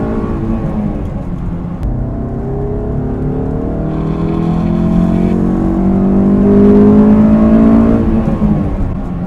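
A Honda S2000 engine pulls hard in third gear with the throttle floored, its rising note climbing steadily and growing louder as the revs build, heard from inside the car with no talking.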